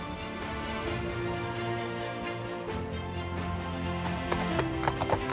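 Horse hooves clip-clop steadily beneath a busy musical backdrop, a continuous rhythmic trotting that stays fairly even in loudness, with a few sharper knocks near the end.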